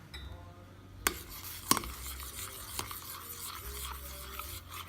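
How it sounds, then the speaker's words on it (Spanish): Oatmeal boiling in a pot as condensed milk is added and a spoon stirs it, with a soft bubbling simmer, a few sharp utensil clinks against the pot, and close scraping strokes. "Ya miraron mi avena que está hirviendo y le pongo de esta leche"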